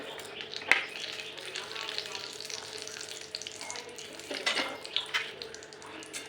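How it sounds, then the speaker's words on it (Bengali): Whole garam masala, bay leaf and cumin sizzle and crackle in hot ghee with a light, uneven hiss, broken by a sharp metal clink near the start and a few scraping stir sounds later on. "এই যে একটু জিরে ফোড়নে দিয়ে দিলাম"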